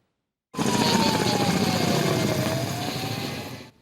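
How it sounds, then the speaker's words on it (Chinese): A helicopter roars overhead above a forest wildfire, loud and close, its rotor throbbing steadily with a slowly falling then rising engine whine before fading slightly. "直升机自火场的顶头飞过"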